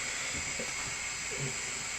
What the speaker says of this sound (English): the water and the vinegar is starting to boil now